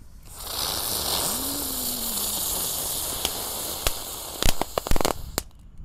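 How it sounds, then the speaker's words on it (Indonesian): Three lotus spinner firecrackers (mercon teratai), lit together for Ramadan 2024, give a loud steady hiss while spinning, then end in a burst of sharp crackles and pops. "Kali ini ada mercon teratai guys. Kita nyalakan 3 sekaligus."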